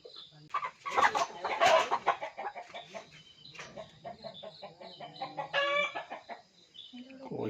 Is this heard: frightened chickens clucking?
yes